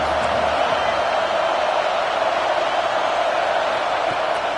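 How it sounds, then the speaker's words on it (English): Crowd roaring at a college football game between Auburn and Wisconsin, a steady dense wash of stadium noise, loud and unbroken throughout with no distinct cheers standing out. "This crowd bringing the energy and noise early."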